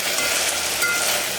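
Ginger garlic paste frying in a pan over low flame while cooking mutton kuzhambu, a dense, steady sizzle close up for a brief moment.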